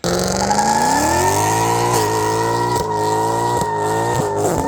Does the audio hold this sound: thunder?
no